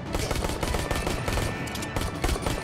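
Rapid, loud gunfire from two guns fired at once in the video game Ark Park, a dense continuous fusillade of overlapping shots with brief dips in the rhythm.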